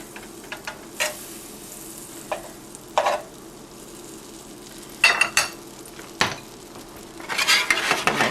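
Butter sizzles softly in a pan while a grilled cheese sandwich is made, with scattered clinks and clatters of utensils against the cookware, close by and without talking.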